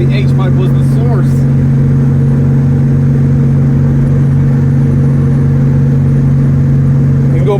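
Inside a car cruising at 50 mph and 2,500 RPM, a steady low engine and exhaust hum runs without boom or drone while a person talks over it in the cabin.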